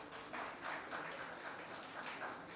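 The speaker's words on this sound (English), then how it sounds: "So please give him a big round of applause." A seminar audience applauds steadily for a speaker, many hands clapping in a dense, even wash that holds throughout at moderate room distance, with no voices on top.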